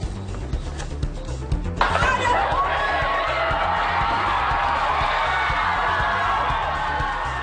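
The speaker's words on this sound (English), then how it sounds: "Demonstrators cheering as the statue fell to the ground outside of a courthouse there." Demonstrators cheer and whoop outside a courthouse as a Confederate statue is toppled, a sudden loud swell of crowd noise that holds steady, heard from some distance, with a broadcast voice talking over the start.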